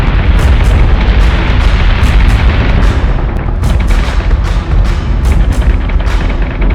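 Warship weapons in the space-combat game Battlestar Galactica: Deadlock fire in a dense, loud barrage of booming blasts and rapid cannon bursts. Sharp cracks repeat over a continuous roaring rumble with no pause.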